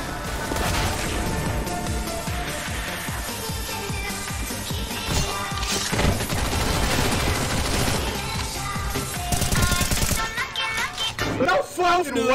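Rapid gunfire and bursts from Counter-Strike: Global Offensive gameplay run densely throughout, layered with game music and excited voices talking over it, with a sharper crash near the end.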